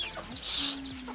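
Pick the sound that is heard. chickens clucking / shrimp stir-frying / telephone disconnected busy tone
chickens clucking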